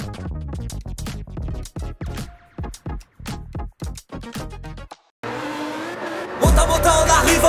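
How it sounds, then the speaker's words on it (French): A car drifts in Gran Turismo 7, engine notes revving in quick bursts and gear shifts before a long sustained tire squeal with skidding rises loud toward the end. "On arrive en drift, wow."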